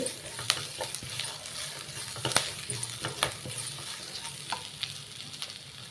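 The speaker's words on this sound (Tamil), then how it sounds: "கீரையை வந்து நல்லா வதக்கிக்கிறணுங்க நல்லா சுருளாக வதக்கிக்கிறணும்" Drumstick (moringa) leaves sautéing in a pan, a continuous soft sizzle broken by irregular scraping and clinking strokes of the stirring spoon, close and without speech.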